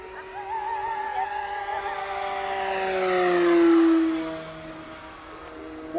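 An E-flite Cherokee 1.3m RC airplane makes a high speed pass, its electric motor and prop whine rising and shifting pitch as it swells closer, peaks, then recedes outdoors.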